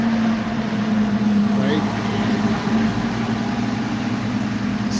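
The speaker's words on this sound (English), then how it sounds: "So this is the sound of a city." City street traffic with cars and big trucks passing, a continuous low engine hum and rumble running beneath someone talking close by.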